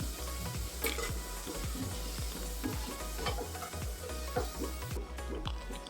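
Potatoes fry in oil in a pan, a steady sizzle under repeated rhythmic stirring knocks and scrapes, close and moderately loud, no speech.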